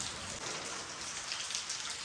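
Steady rain falling and pattering on surfaces, a dense even hiss of drops that stays constant throughout with no voices.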